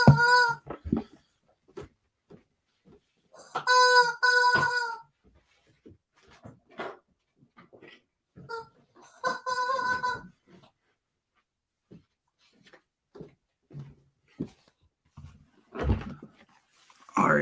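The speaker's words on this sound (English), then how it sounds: "That was my dog making a lot of noise." A pet dog whines, yips and barks in short bursts with pauses between, close and fairly loud indoors, with a few longer harmonic howling cries standing out.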